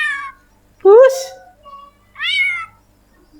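A green leafbird (cucak ijo) imitates a cat, giving three loud, rising meow-like calls separated by short pauses.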